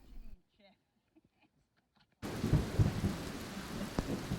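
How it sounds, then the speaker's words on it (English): Rain pours onto the roof of a narrowboat during a thunderstorm, beginning abruptly after a near-silent stretch with faint movement sounds, then a steady loud hiss broken by rolling rumbles of thunder. "Listen to the thunder."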